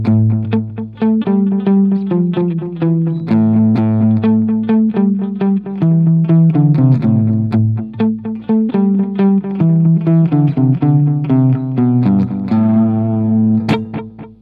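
Electric guitar played through a Vox Amplug AC30 headphone amp with delay, a loud, steady run of distorted notes with echoing repeats trailing each pick, continuous throughout with no talking.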